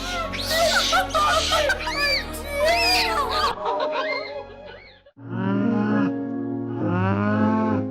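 A distressed cow moos repeatedly after her calf was taken away with severe pneumonia: long, loud, wavering calls, close to the listener, with brief gaps between them.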